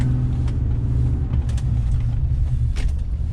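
A truck rolls past on a New York city street, a steady, loud low engine rumble and road noise that holds close throughout, with faint brief ticks and creaks above it and no voices.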